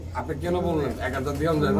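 Pigeons coo in soft, repeated rounded notes close by at a pigeon market, mixed with a busy crowd murmur.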